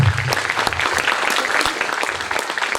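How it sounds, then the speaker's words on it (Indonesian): A crowd applauding at an Islamic boarding school graduation ceremony, dense continuous clapping throughout, fairly loud and even, with faint voices underneath. "Tepuk tangan."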